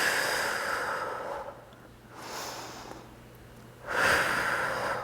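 A slow, audible breath during a yoga side-plank style pose, a long exhale that fades, a softer middle breath, then a strong rushing inhale or exhale, close and alone.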